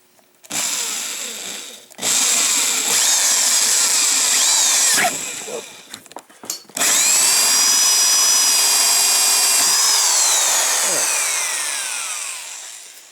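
Loud whining power tool cutting a hole for a DCT foot lever shift kit on a motorcycle, running in three long bursts with brief pauses, pitch sagging under load and winding down at the end.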